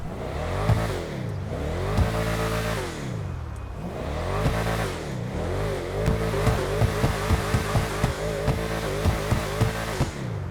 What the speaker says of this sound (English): It's not the craziest sounding SUV in GTA by no means, but it does have a nice V8 rumble to it